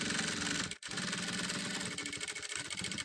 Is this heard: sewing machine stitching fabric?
yes